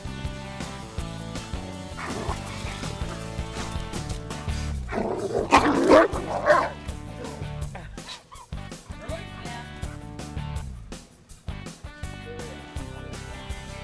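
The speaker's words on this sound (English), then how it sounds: "when shepherds play, stay out of the way." German shepherd dogs barking while they play, loud excited woofs and yips bunched into a close rough-and-tumble burst midway, set against background music and some faint voices.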